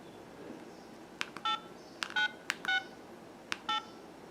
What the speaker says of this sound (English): Now enter the last 4 digits of the phone number.